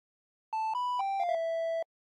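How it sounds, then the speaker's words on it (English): A triangle-wave tone from the PreSonus Mai Tai synthesizer plays a short melodic phrase of about five soft, hollow notes stepping gently in pitch. It sounds clean and isolated with no other sounds. "A triangle wave sounds closer to your sine wave."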